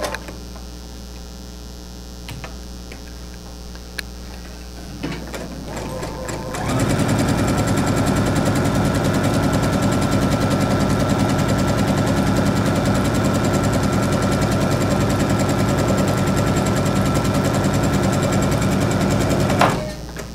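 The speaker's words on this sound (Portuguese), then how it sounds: "Eu vou costurar esse daqui para vocês verem" A sewing machine stitches fabric strips for a nine-patch quilt block. After a few quiet seconds with faint hum and small clicks, it starts and runs as a steady, even whir for about thirteen seconds, then stops.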